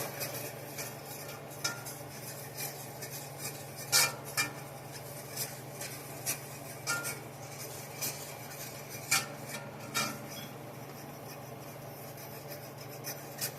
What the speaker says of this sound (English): Scrape as you go. Keep your brown pieces.